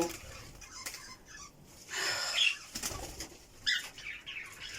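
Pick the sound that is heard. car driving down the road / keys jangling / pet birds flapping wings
pet birds flapping wings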